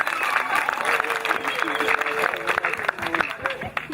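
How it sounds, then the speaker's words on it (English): An audience at a university graduation ceremony claps in a brief, busy burst of applause, dense and fairly near, with voices mixed in. "Let us first of all give a hand of applause to God for this occasion."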